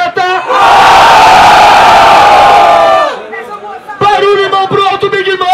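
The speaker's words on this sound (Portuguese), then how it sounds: "Barulho e mão pro alto, Malagueta" Crowd at a Brazilian freestyle rap battle, Batalha do Tanque, erupts in a loud, sustained roar of cheering and shouting for about two and a half seconds, then a voice speaks over lingering crowd noise.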